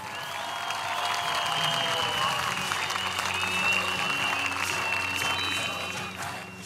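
A large open-air political rally crowd in Saraçhane, Istanbul applauds two young men: continuous dense clapping mixed with cheering and crowd murmur, loud and sustained throughout.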